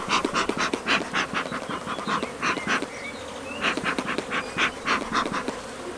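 A dense, steady buzz of many honey bees close by at an opened hive, pulsing continuously with no voices.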